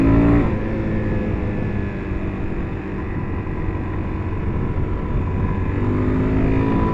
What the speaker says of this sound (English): Let's do a little full throttle in 3rd, see what happens.